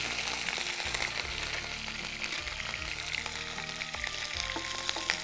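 Ginger, green chili, curry leaves and cashews fry in hot ghee with a soft, steady crackling sizzle and a few light stirring clinks, quiet and close, with no talking.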